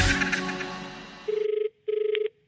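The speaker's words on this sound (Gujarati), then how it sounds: "ફોન આવ્યો કાકા." A telephone rings on a radio comedy show, two electronic ring bursts following louder studio jingle music, the rings clear and close with a short gap between them.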